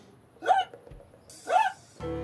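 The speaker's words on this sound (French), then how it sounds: "je reconnaîtrais le hoquet de Garfield entre mille" Garfield, the cartoon cat, hiccups twice, a second apart. Each hiccup is a short, loud, rising squeak, and a brief musical sting follows.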